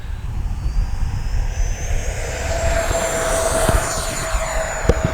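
An FMS Avanti S 70mm electric ducted-fan RC jet on 6S power takes off with a steady, loud, rushing whine that rises in pitch as it powers up, over a rumbling outdoor background.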